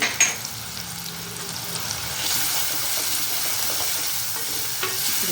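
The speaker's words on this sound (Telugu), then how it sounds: "కాస్త పచ్చివాసన పోయే వరకు వేయాలన్నమాట" Ginger-garlic paste with chilli powder and coriander powder fries in hot oil for a cauliflower fry, a steady close sizzle with stirring scrapes running throughout, and no talk.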